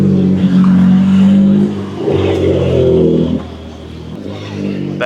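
A supercar outside a bakery, its engine rumbling and revving loudly nearby in short swells that fade toward the end.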